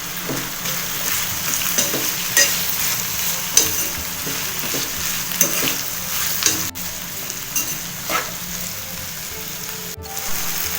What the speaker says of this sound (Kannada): 1/4 ಟೀ ಸ್ಪೂನಷ್ಟು ಅರಿಶಿನ ಹಾಕೊಂಡು ಚೆನ್ನಾಗಿ ಫ್ರೈ ಮಾಡ್ಕೋಬೇಕು.